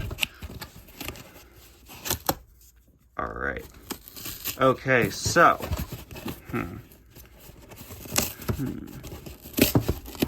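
Plastic and cardboard packaging of a Disney Cars diecast toy crinkles and tears in short, close bursts, with a person speaking briefly between the rips.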